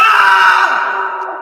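A man imitates a grown man's scream, a single loud, strained, sustained cry lasting over a second that slowly fades, close to the microphone.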